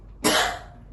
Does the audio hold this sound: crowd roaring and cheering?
no